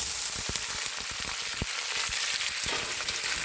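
Garlic sizzles steadily in hot olive oil in a frying pan, a constant crackling fry with small pops and occasional stirring scrapes, close and alone.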